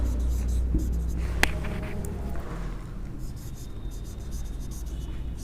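Pen writing an answer on paper, a soft continuous scratching close by with a faint steady hum behind it and a few small clicks.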